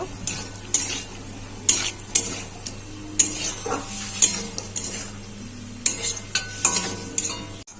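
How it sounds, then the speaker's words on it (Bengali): Fried chicken pieces are stirred into masala in a pan, a spoon scraping and clinking against the metal in repeated strokes over a low sizzle, close and moderately loud with no talking. "চিকেনগুলো ভেজে রেখেছিলাম, দিয়ে কষিয়ে নেব।"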